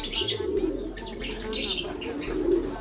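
Domestic pigeons, Victor Cross and Japan-line birds among them, coo in low soft rolling calls close by, with faint chirps and a little wing noise throughout.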